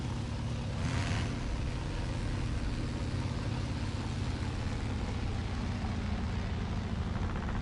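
Steady, loud propeller drone of a P-47 fighter plane's engine in the War Thunder combat flight game, a continuous low roar that holds unchanged from start to finish.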